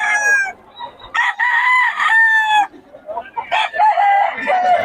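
A golden boy gamefowl rooster crows loudly and close at a market, two long cock-a-doodle-doo calls broken by short clucks and brief gaps.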